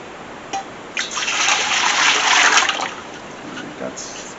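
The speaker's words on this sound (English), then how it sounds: "let's go ahead and throw some water in there" Water runs from a tap into a pot being filled for turkey brine, a gurgling, splashing pour that swells for about two seconds after a couple of clanks, then tapers off.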